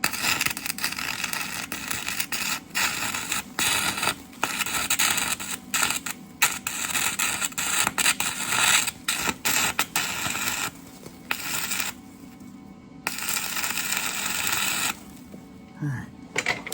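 Stick welding a bead on a Case IH 5220 Maxxum tractor: a close, steady crackling sizzle that runs with short breaks and pauses near the end.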